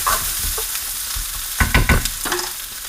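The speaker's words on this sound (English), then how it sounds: "now I'm going to saute my vegetables." A vegetable medley with bacon sautés in a pan, giving off a loud, even sizzle. Midway, a cluster of stirring scrapes and clatters rises over the frying.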